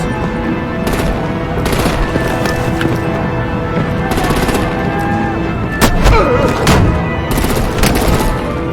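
Sustained artillery and machine-gun fire from the Batman: The Enemy Within video game, dense and loud throughout, with repeated broadband bursts and a heavier blast near the middle over a steady rumbling bed.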